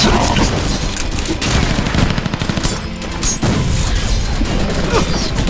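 Dense, continuous automatic gunfire and rifle bursts in a Battle: Los Angeles firefight, loud and close, rattling without pause alongside faint shouted voices.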